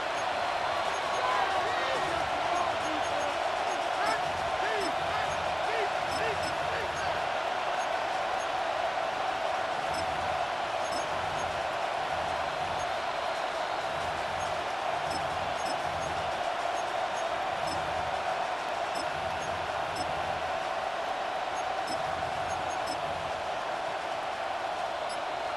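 Steady stadium crowd roar from a Madden NFL 26 football game between the Falcons and Saints, a dense constant wash that holds for the whole stretch beneath play-by-play commentary.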